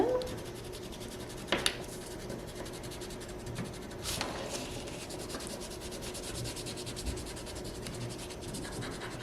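A crayon scrapes steadily over a ridged craft surface for a spooky spider dream catcher, giving a soft, continuous rubbing texture with a couple of sharper strokes near the start.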